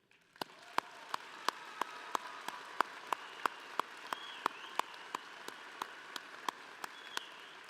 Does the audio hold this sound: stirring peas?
no